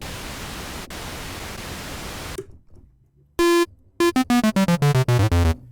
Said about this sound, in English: Every single event is a different random noise.